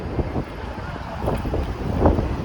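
Wind buffets the microphone outdoors in Canada in a steady low rumble, swelling stronger near the end, with faint voices underneath.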